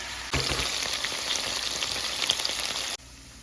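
Pork in avocado oil frying in a pan for pupusas gives a loud, steady crackling sizzle. It starts abruptly, runs for under three seconds with no voices, and then cuts off.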